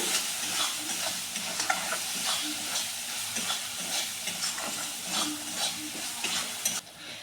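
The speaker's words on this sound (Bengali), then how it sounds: "এক চামচ জিরে গুঁড়ো দিয়ে দিচ্ছি, মশলাটাকে ভালো করে কষে নিতে হবে।" Cumin powder and masala being fried and stirred in a pan for a Bengali prawn malai curry, giving a steady close sizzle with repeated scraping stir strokes and no voices.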